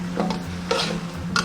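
Potatoes go into a simmering pot and are stirred, giving a few soft scraping and shuffling sounds over a low steady hum.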